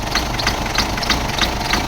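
A Ford Wildtrak 2.5 TDCi diesel engine idling rough just after starting, with a steady loud drone broken by irregular knocks and shudders at close range, with no talking.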